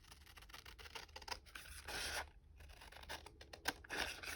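Scissors snip through paper for a paper bag junk journal, giving quiet, close, irregular crisp cuts and rustles, with a brief pause partway, and no talk.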